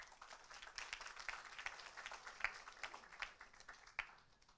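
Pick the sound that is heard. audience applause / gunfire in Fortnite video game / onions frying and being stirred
audience applause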